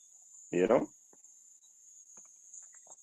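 A steady high-pitched insect chirring runs throughout, faint and continuous, with a brief burst of a voice near the start and a few soft clicks.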